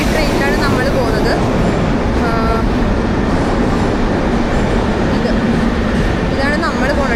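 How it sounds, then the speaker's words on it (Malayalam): A metro train in a Tashkent metro station gives a dense, steady roar of motors and wheels that fills the platform, with brief squealing tones rising and falling. A voice talks over the noise. "ഇതാണ് നമ്മൾ പോകുന്ന ട്രെയിൻ."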